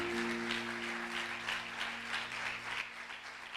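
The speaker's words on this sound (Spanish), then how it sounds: "Alguien que le aplauda al Señor aquí." A church congregation applauds the Lord, a steady, distant roar of many hands clapping that fills the whole stretch evenly, with a low sustained organ or keyboard tone humming underneath.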